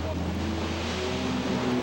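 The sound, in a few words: ocean surf waves at Oahu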